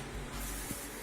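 A repair product is sprayed onto hairline cracks in a bathtub, giving a steady airy hiss that runs through the whole second at close range, with no speech over it.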